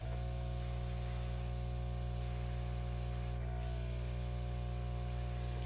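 An airbrush sprays acrylic paint for flower designs, giving a steady, even hiss that runs unbroken and close throughout, with a short brighter burst partway through and no voices.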